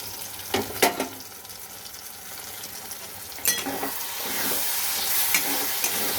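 Kochu shak (taro greens) with hilsa fish and turmeric frying and being stirred in a pan: a steady soft sizzle and hiss with a few scraping stir strokes near the start and again around the middle, no voices.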